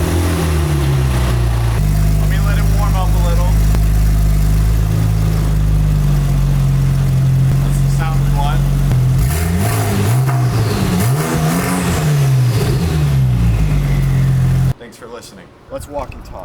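An old, expensive car built for car shows idles with a loud, close engine rumble, then revs up and down in a few swelling bursts before the sound cuts to quieter outdoor noise; someone talks over it.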